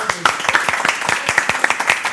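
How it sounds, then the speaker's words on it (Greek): Studio audience applauding at a live Greek television entertainment show, a steady patter of many hands clapping close up, with a voice talking over it. "να το χειροκροτήσουμε"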